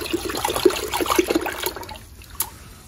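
Water splashes and runs steadily as soap is rinsed off a VW Beetle during a do-it-yourself paint job, then trails off into a faint trickle with one brief splash near the end.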